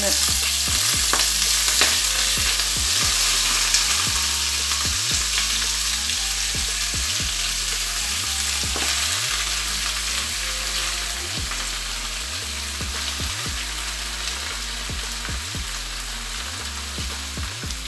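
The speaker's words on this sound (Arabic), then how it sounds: "من بعد ما سخنات هكا الزيت غادي نبدا ندير هكا السبانخ" Spinach frying in hot oil gives a loud, continuous sizzle and crackle, with gentle stirring sounds over a repeating music beat in the background.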